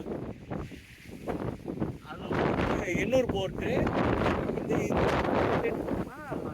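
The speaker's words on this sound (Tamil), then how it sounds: "அதனால தான் இங்கே வந்து இன்னும் அதிகமான காற்று இருக்குது." Strong cyclone wind buffets a motorbike rider on a coastal port road beside the beach during a storm, a constant rushing roar across the microphone, loud and steady, with someone talking over it throughout.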